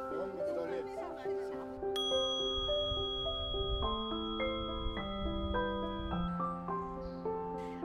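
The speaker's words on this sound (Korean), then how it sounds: "맑은 종소리 따라 마음도 편안해지는데요" Clear bells ring out one after another in a calm weekend setting, each strike leaving a long, bright, sustained tone that overlaps the next, with a faint murmur of people beneath.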